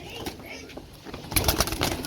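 Racing pigeons coo softly in low, throaty bursts close by, mixed with rustling and handling noises while people talk over them.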